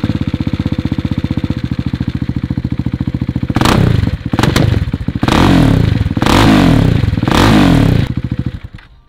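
A motorcycle engine idles with a rapid, thumping pulse, then revs hard in several loud bursts. Each burst ends in crackling exhaust pops and bangs, very close and without speech, before the engine drops away at the end.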